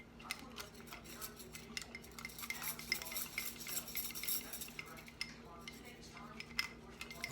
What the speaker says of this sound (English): And make sure you stir it up really well.